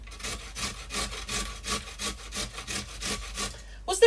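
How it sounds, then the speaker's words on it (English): A carrot is grated by hand in a home kitchen, a rapid run of rhythmic rasping strokes, about twelve back-and-forth scrapes close up, ending with a brief knock. "Grate the bloody carrot"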